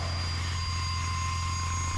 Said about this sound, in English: There's a nice big jet.